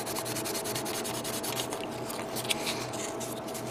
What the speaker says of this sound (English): Now I just gotta begin to sand these guys down.